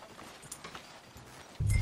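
Horse hooves clip-clop softly and steadily in Red Dead Redemption 2, a Western video game, with a loud low thump cutting in at the very end.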